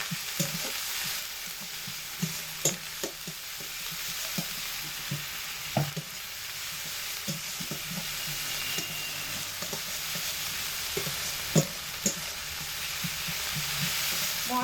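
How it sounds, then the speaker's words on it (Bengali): Ground cumin and dried red chili paste frying in oil while being stirred, a steady soft sizzle punctuated by scattered clicks and scrapes of the spatula against the pan. "জিরে বাটা, শুকনো লঙ্কা বাটা। এগুলো সব একসাথে দিয়ে ভালোভাবে নেড়ে চেড়ে দেব।"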